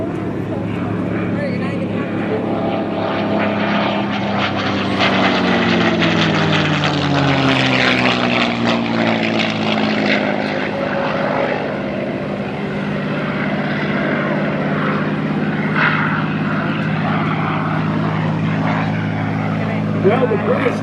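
A P-51 Mustang flies past at an airshow, its propeller engine droning loud and continuous with a slow pitch shift as it passes, while a voice talks over it.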